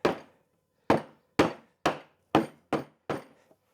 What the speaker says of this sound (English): this bucket right here, I'm just going to hammer the lid on